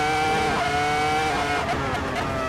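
Formula 1 V10 race car engine screaming at high revs, a loud, continuous, sustained wail with steady harmonics and slight pitch shifts, close and dominant throughout.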